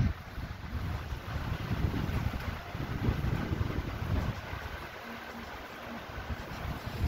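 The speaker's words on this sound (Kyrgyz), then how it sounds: "Бул кокто болсо аябай шамал экен." Strong wind buffets the microphone on a trek toward Kol Kogur, a loud, low, rumbling roar that surges and eases without pause, with no voices.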